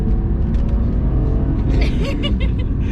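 A BMW E46 M3 engine pulls under load in sport mode, giving a loud, close, steady rumbling growl from inside the car, with faint voices mixed in.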